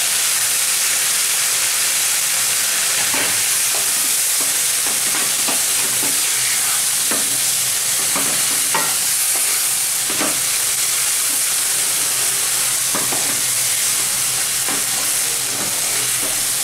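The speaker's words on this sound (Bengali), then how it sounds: "আমার 5 ফোড়নটা ফুটে গেছে, এবার আমি তরকারিটাকে ঢেলে দেবো।" Ash gourd curry poured into a sizzling five-spice tempering for a vegetarian Bengali dish gives a loud, steady hiss of hot oil and steam, with scattered clinks and scrapes, close by and without speech.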